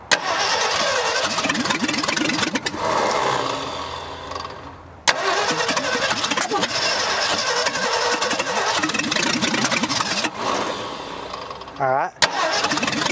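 A 1965 Ford F100 engine cranks over and over, sputtering and trying to catch without running, loud and continuous with a brief pause midway, while people talk nearby.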